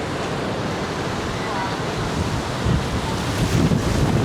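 Strong wind buffets the microphone at My Khe Beach in Da Nang before a storm, a continuous roaring rush mixed with crashing surf that swells louder toward the end.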